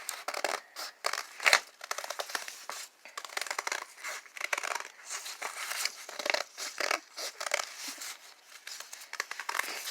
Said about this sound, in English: It also helps if you cut all of the pages at the same time, just to cut down on time.